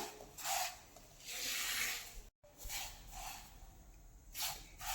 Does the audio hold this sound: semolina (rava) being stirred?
yes